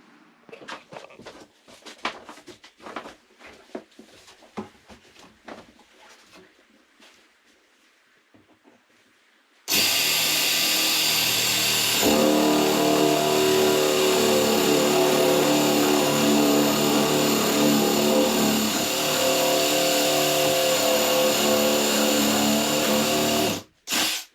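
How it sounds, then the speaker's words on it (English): Power drill with a 5/8 bit boring a hole through a cabin wall, scattered faint handling knocks first, then a loud continuous whirring drone of the drill running close up for about fourteen seconds before stopping abruptly. "I need to put a hole through the wall that's at least that big, and I've got this 5/8 drill bit"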